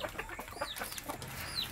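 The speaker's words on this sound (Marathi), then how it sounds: "मग इथंच कोंबड्या येतात तुझ्याजवळ" Chickens cluck in short, scattered calls with a few higher squawks, close by over a steady ambient background, while feed is being thrown near them in a yard.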